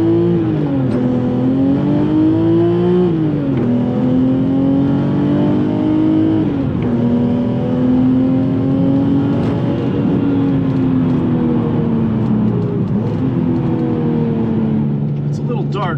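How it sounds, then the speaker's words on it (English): A loud engine of a 1995 BMW E36 M3 Lightweight drones steadily, its pitch climbing and dropping through gear changes as the car accelerates, heard from inside the cabin. "the engine still makes great noises"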